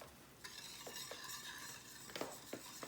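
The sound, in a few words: stirring sauce ingredients for General Tso's chicken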